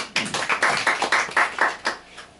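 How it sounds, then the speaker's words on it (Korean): Church congregation claps hands in a short, steady rhythm of about nine beats, fairly close and clear, fading quickly afterward. "박수 한번 쳐요."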